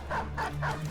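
Game dogs in a fantasy battle yip and bark in three short, close bursts over a steady low background hum.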